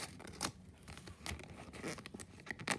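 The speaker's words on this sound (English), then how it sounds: "you can grab your scissors and you just want to cut open those air bubbles" Quiet snipping and crinkling of scissors cutting through thin plastic or paper, with a few sharper clips among soft rustling.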